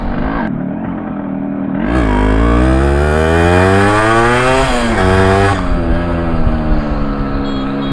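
A classic two-stroke motorcycle engine idles, then revs hard and high for several seconds, loud and close, before dropping back to a buzzing idle.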